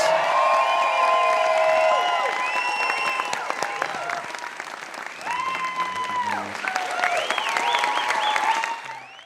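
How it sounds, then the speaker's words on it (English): A live podcast audience claps and cheers for the guests, a full steady wash of applause with whoops and excited voices rising again toward the end before cutting off. "Let's give a round of applause for Rosie Perez and Eric Haze."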